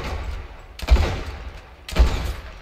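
Two heavy shots from Fortnite Battle Royale gunfire, about a second apart, each a sharp thumping report with a short tail over quiet game ambience.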